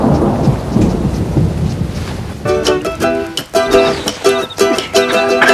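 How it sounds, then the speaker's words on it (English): Rain pours steadily while heavy thunder rumbles loud and close, a thunderstorm that swells into a series of sharp, crackling bursts. "Looks like it's gonna be raining the whole weekend."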